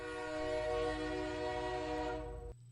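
A real train passes with its horn sounding, a sustained multi-tone blast over low rumbling that holds steady for over two seconds before cutting off, leaving faint rail noise.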